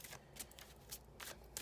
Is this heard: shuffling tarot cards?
yes